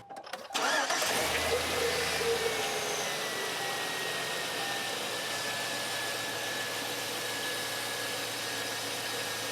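A 2003 Chevrolet Silverado engine cranks briefly and catches, then settles into a loud, steady idle with a hissing whine on top, heard close with no talk.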